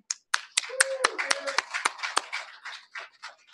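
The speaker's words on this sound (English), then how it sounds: "I'd like to give a round of applause to John Ellis and Ashley Terry" An audience at a political candidate forum gives a short, uneven round of applause. Sparse individual claps overlap close voices.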